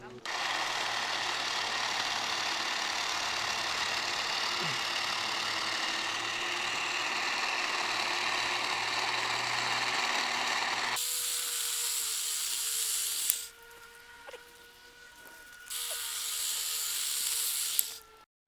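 Terratek 20V cordless hedge trimmer cutting the top of a hedge at an angle, its steady high motor whine running close for about eleven seconds, then dropping to quieter bursts that pause and restart.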